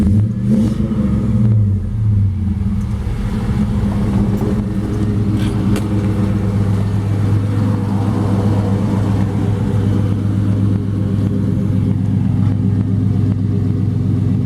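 A 1957 Chevy 210 with an LS1 V8 engine idles loudly and steadily nearby, its deep rumbling throb rising briefly in a rev near the start.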